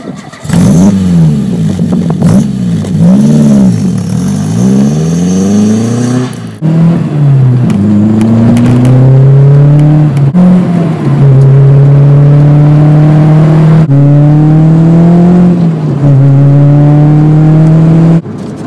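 A Peugeot 205 GTI classic hot hatch revs hard on the move, its engine note climbing and falling through repeated accelerations and gear changes, loud and close with no talking.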